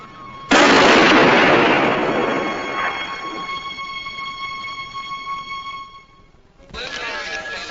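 Gunfire from a police drama scene: one loud blast at close range, then a long ringing decay with a tonal whine. About a second of quiet follows before another sharp burst arrives near the end.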